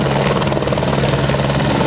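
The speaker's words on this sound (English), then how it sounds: "here he comes towards you right now under the surveillance of a photo helicopter" A photo helicopter drones loudly and steadily nearby at an air national guard air show, its rotor chopping in a constant low pulse with no talking.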